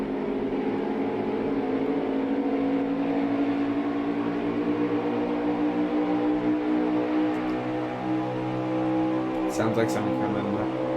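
Racing engines drone steadily up close in a NASCAR video game, a dense layered hum of several cars running in a pack, while a commentator talks over it.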